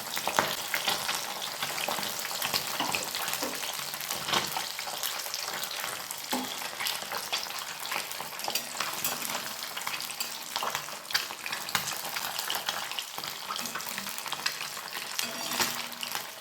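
Pabda fish sizzles in hot mustard oil in a kadai, a dense continuous crackle and spatter close by with busy popping throughout and no talking.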